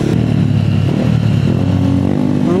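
A motorcycle engine runs loud and close, a steady throbbing rumble that rises slightly in pitch at the end, with no talking.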